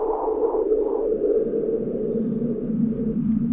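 Noises plugin by Audio Thing and Hainbach playing back a sample with extreme fuzziness, giving a murky, warbling tone with slow pitch wows, steady and moderately loud without talk.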